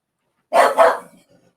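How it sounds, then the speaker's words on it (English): A single short, sharp dog bark, close and fairly loud, quickly fading to silence. "Hey, what you barking at?"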